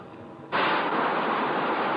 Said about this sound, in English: That sound you just heard was the decompression.